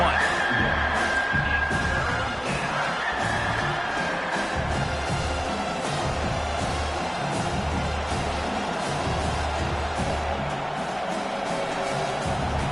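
A football stadium crowd roars loudly on third down, a sustained wall of cheering, whoops and shouts backing the defense, with an announcer's voice faintly audible beneath.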